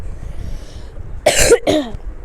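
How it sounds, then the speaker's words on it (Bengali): A person who feels unwell gives two quick, harsh coughs close by after a quiet stretch. "আমার একটু শরীরটা ভালো নয় তাই দেখে কাশি দেই।"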